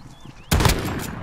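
A single loud, close shotgun blast in the video game Call of Duty Modern Warfare, striking suddenly after a quiet moment and ringing out briefly.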